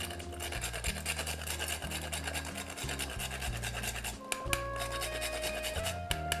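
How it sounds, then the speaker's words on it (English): Black pepper and whole nutmeg being grated by hand in a kitchen, a steady close rasping scrape that runs the whole time over a low background hum, with no talking. "grated black pepper to season, and freshly grated nutmeg"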